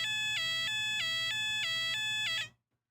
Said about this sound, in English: This does sound like a European siren for what I know.